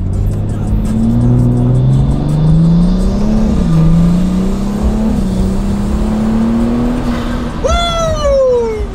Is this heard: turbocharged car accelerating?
yes